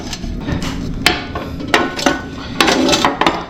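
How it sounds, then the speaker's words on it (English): A metal griddle plate is fitted into a Ninja Foodi XL, producing several sharp clanks and knocks of metal on the appliance at irregular intervals over a faint background hum. "I'll show you how the griddle goes in."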